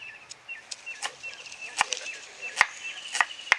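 Knife chopping onions on a board: a few sharp, irregular knocks, the strongest near the end, against a faint high-pitched background chirping.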